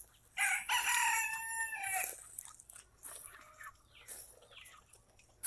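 A Red Ranger broiler chicken flock at about seven weeks old gives off a loud, drawn-out crowing call near the start, followed by scattered clucks and softer fowl noises that continue until the end.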